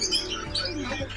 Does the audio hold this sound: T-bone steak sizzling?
no